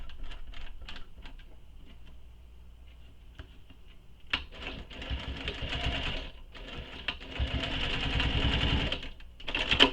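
A sewing machine stitches through thick layered fabric around a shoulder bag in bursts of rapid, rattling needle strokes, starting and stopping between runs, close and steady with no voices.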